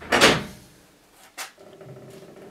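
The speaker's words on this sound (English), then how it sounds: "We have a big door to keep safe our treasures inside." A heavy vault door of a wine cellar at a restaurant in Piedmont opening, with a loud clunk of the latch, a second knock, then a low creaking swing, close by and with no talk over it.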